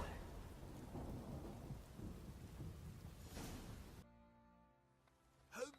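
Heavy rain pours in a thunderstorm in The Witcher 3: Wild Hunt, a loud, rumbling wash for about four seconds that cuts off abruptly into quieter tonal sounds.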